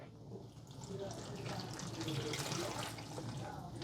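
Water pours steadily from a can into a potted Philodendron indoors, a soft, continuous trickle and splash into soil lasting several seconds, fairly quiet.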